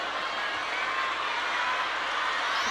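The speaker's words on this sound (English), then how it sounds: "The crowd seemed to find Harimoto's celebration amusing, almost." A table tennis crowd at a Champions Chongqing semifinal reacts with steady, dense applause and murmuring, a continuous even wash of clapping with no distinct voices.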